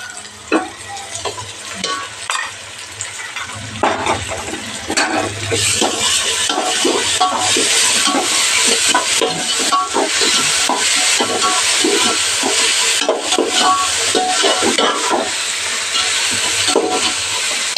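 Ginger garlic paste sizzles and fries in hot oil while a spoon stirs it steadily, with scraping against the pan and a continuous hiss, close and alone.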